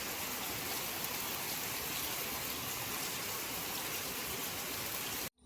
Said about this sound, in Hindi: यहाँ पे आज बहुत तेज़ बारिश हो रही है।